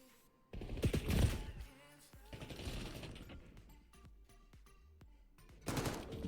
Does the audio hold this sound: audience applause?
no